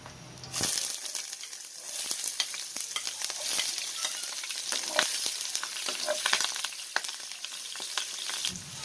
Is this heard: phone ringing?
no